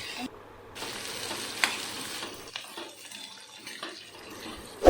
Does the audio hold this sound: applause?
no